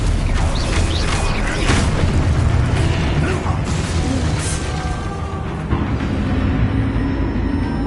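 Confringo blasting spells go off in a video game battle, a steady roar of booms and bursts over a rumbling mechanical backdrop, loud and continuous.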